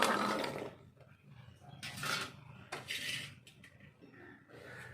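Dried mutton and chopped shallots being moved into a pressure cooker, with clattering metal vessel and spoon scrapes in several uneven bursts, close and fairly loud, with quiet gaps between.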